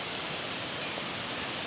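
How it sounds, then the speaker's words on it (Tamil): Garambi Waterfall, a continuous broadband rush of falling water, steady and fairly loud, with no voices over it. "அங்க பாருங்க ஒரு அருவிய"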